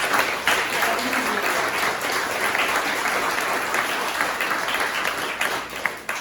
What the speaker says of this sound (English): just a huge applaud and cheer and applause